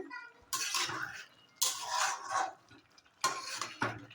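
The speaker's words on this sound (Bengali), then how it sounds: "একটু নেড়ে ছেড়ে দিলাম" A pot of rohu fish curry with papaya is stirred in three bursts, a spoon scraping and the liquid sloshing, each followed by a brief pause.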